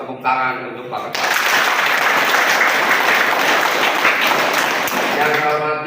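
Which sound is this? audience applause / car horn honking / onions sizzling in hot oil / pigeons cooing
audience applause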